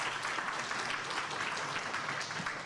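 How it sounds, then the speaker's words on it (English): Audience at an event in Punjab Bhawan applauds steadily, a dense, even wash of clapping throughout with no pauses. "So a big round of applause for her once again."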